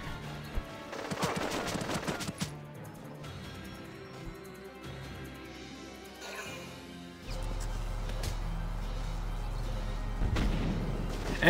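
Gunfire and a rocket launch in the Valkyria Chronicles tactical war game, with scattered shots and crashing impacts early on, then a sustained low rumble of battle that swells to a loud burst at the end.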